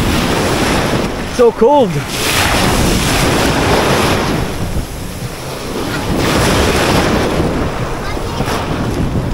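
Surf washing onto a beach on Boracay Island in the Philippines, a steady broadband roar with gusty wind noise on the microphone throughout, while a woman exclaims briefly and voices call out over it.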